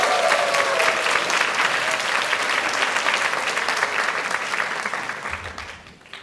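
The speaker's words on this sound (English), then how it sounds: "Let's give him a big round of applause." A conference crowd gives a big round of applause to welcome a guest speaker from Sydney, full and sustained at first, then thinning out and fading away at the end.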